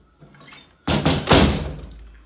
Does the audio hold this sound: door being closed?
yes